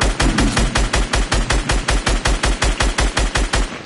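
Rapid automatic gunfire in Fortnite, a loud, close, evenly spaced burst of about twenty shots fired in quick succession with no pause.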